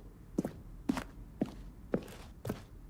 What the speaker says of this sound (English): I do like the footstep sounds, but the footstep sounds don't match how fast I'm walking.